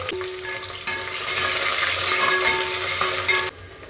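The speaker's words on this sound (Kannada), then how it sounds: "ಇವಾಗ ಈರುಳ್ಳಿ ಚೆನ್ನಾಗಿ ಫ್ರೈ ಆಗಬೇಕು, ಸ್ವಲ್ಪ ಕಲರ್ ಚೇಂಜ್ ಆಗಬೇಕು, ಅಲ್ಲಿವರೆಗೂ ಫ್ರೈ ಮಾಡ್ಕೊತೀನಿ." Onions fry loudly in hot oil with whole spices and a bay leaf for a village-style biryani, a steady strong sizzle with stirring that cuts off abruptly near the end.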